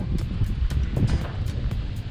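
Strong wind buffeting the microphone on a hiking trail in the Caledon Hills beside a golf course, low rumbling gusts that pulse steadily throughout, no talking.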